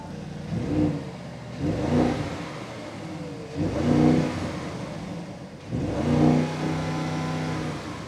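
Audi RSQ8 engine in RS mode revving repeatedly, four loud rising surges of throaty exhaust roar with lulls between, heard close and alone.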